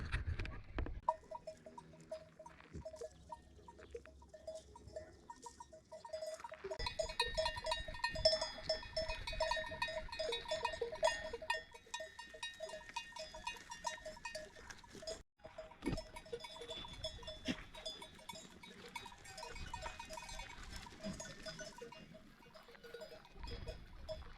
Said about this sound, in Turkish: doğayla iç içe olunca keçiler de geldi